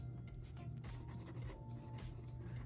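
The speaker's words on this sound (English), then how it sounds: "And then I just start to write." A pen scratches continuously across a journal page in close, soft handwriting strokes, with small lifts and restarts between words.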